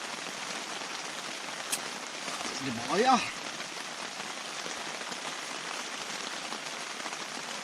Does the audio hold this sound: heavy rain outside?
yes